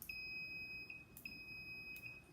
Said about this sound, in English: when you put the two probes together, it beeps